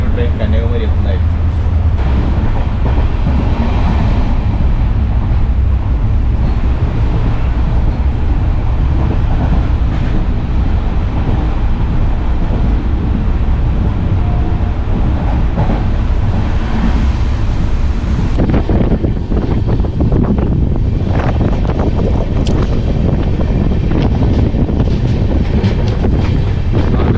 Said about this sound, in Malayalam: അല്പസമയത്തിനകം ഈ ഒരു ട്രെയിൻ കന്യാകുമാരി എത്തുന്നതായിരിക്കും.